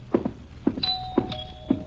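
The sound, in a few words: doorbell ringing in radio drama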